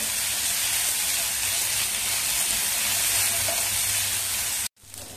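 Red chili paste sizzling in hot oil gives a steady, loud frying hiss that runs unbroken before cutting off abruptly near the end.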